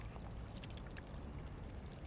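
Water splashes and pours steadily in a garden fountain, a faint continuous trickling wash with no break over a couple of seconds.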